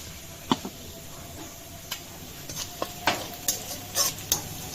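Onions frying in a pan over a low background hiss, with scattered sharp clinks and scrapes of stirring that grow more frequent toward the end, moderately close and without talk.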